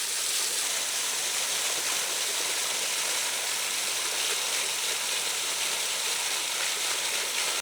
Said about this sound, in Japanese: こちらがね 滝の裏側です。